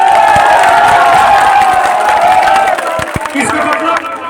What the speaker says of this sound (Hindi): आप लोग तालियां स्वागत से बजाइए